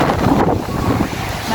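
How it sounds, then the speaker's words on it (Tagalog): Strong wind buffets the microphone in a steady, roaring rush near Mayon Volcano, Albay, Philippines, with a broad low rumble and no voices. "Mahangin na."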